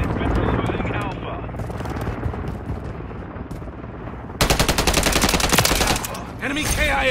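Rapid automatic gunfire in the Modern Warfare 3 shooter game, with dense bursts building to a loud, sustained volley near the end, under intermittent radio-style voice callouts and game chatter.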